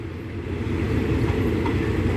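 Freight train wagons rolling past on a Thai railway, a continuous loud low rumble of wheels on track with no voices.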